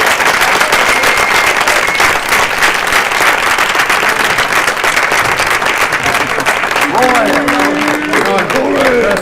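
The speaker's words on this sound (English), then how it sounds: "How about a round of applause for our football program?" A school board meeting audience applauds the school football program with sustained, dense clapping. A brief tone and faint voices surface near the end.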